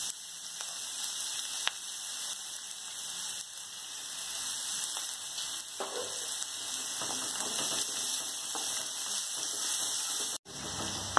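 Small onions salted to brown quickly fry in a pan for Kerala-style kadala upperi. The sizzle is a steady, soft hiss with a few faint ticks and crackles throughout.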